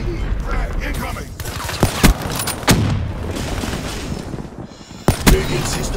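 Explosions from an RPG and a frag grenade in a military shooter video game, sharp booming blasts around the two- and five-second marks over a steady clatter of game noise, with voices heard briefly.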